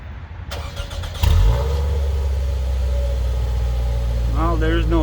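A 2005 Toyota Camry engine cranks and catches, then settles into a steady, close idle with a slight rev, after a brief quiet moment at the start; a voice speaks near the end.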